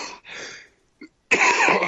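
Harsh, close coughing in two bursts separated by a short pause, with a small throat sound between them.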